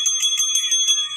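A small handbell or bicycle-style bell rings rapidly and steadily, a bright, close metallic jangle that repeats in quick pulses throughout with no talking.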